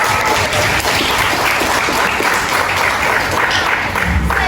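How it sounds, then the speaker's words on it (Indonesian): A group claps together during a lesson, a dense burst of steady applause that continues for several seconds, fairly close and loud. "Oke, kasih aplaus semuanya"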